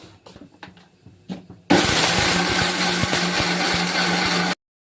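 A kitchen mixer grinder starts up on fried moringa leaves after a few light clatters, then whirs loudly with a sustained, rough motor roar for about three seconds before stopping abruptly.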